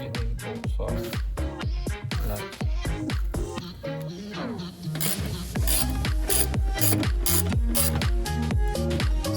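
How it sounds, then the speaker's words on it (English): A wrench ratchets on engine mount bolts of a 2002-2006 Honda CR-V, giving rapid rhythmic clicking strokes throughout, loud and close, with a short pause midway before the cranking resumes. "now we're gonna go ahead and take the first bolt off"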